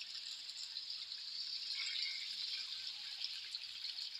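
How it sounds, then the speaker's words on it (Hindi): Water from two glasses poured into a pot of arvi (taro root) curry after the spices are fried, a steady soft gushing pour lasting several seconds, fairly quiet and close, with no talk over it. "ये 2 गिलास पानी डालेंगे।"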